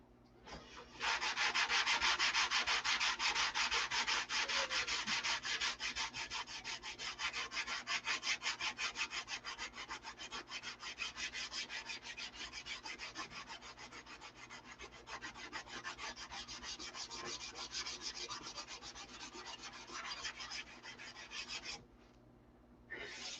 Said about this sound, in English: Looks like I'm going to have to sand this again with some 320 up here.